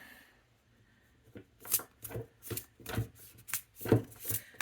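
Tarot cards with a slightly sticky surface are shuffled in a quiet room, giving a run of soft, papery riffling bursts that grow busier and closer after a near-silent start.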